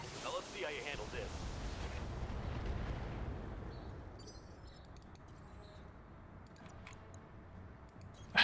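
Heavy weapons fire in the Battletech video game, including an AC-20 autocannon, comes as a loud rumbling blast that decays into a long booming roar, followed by faint clicky game sounds and a sharp burst at the end.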